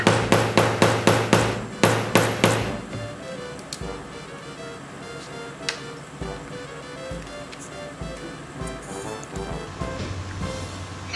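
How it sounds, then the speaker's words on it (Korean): A hammer strikes a punch through leather to make holes for a shoulder bag strap, with about eight sharp, evenly spaced blows in quick succession, then quieter handling taps and rustles close by. "다음은 패턴을 반 접어서 끈이 들어갈 부분 타공을 해주도록 하겠습니다."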